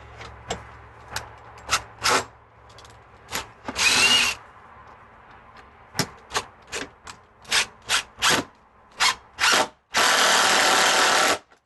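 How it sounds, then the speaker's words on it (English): A power screwdriver drives screws while a Larson Tradewinds storm door is installed. It gives many short, sharp whirring bursts and a few longer spins, all close and loud. "you always got to watch out for it jumping off your screwdriver"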